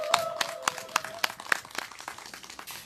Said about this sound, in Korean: 다시 한 번 더 오랜만에 와주신 우리 황선진님께 큰 박수 부탁드리겠습니다